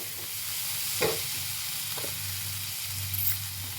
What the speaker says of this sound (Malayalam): ഇളക്കി കൊടുക്കാം കേട്ടോ തക്കാളി ഒന്ന് വെന്ത് വന്നെങ്കിൽ